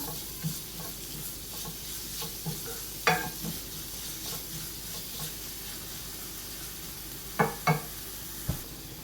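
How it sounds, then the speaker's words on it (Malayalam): Finely chopped onion sautés in a pan for a creamy mushroom soup, a soft steady sizzle broken by occasional scrapes and sharp clinks of a spoon stirring against the metal. "ഇനി നമുക്കിതിലേക്ക് ഹാഫ് സവാള പൊടിയായിട്ട് അരിഞ്ഞു വെച്ചിരിക്കുന്നത് ചേർത്ത് കൊടുക്കാം. ഇതൊന്ന് വഴറ്റിയെടുക്കാം."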